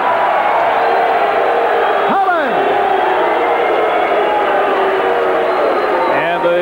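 Partisan Philadelphia boxing crowd reacting to a unanimous decision, a loud, sustained roar of mixed cheers, whoops and shouts filling the arena.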